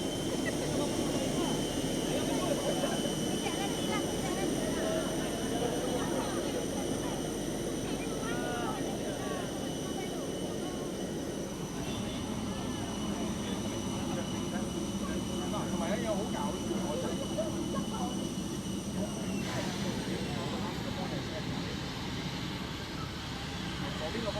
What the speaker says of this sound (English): It's almost time to commence pushback. All right, and there we go. Pushing off stand.